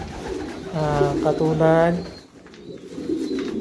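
Racing pigeons in a Madrid loft give a drawn-out, throaty coo. It is close and fairly clear over background room noise, with someone speaking briefly nearby.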